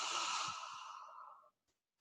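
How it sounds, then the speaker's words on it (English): A single long, deep breath taken during a morning meditation practice lasts about a second and a half. It sounds close and airy, then fades into silence. "Take one more deep breath. Inhale."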